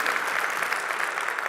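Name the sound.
audience applause for Bob Cabeza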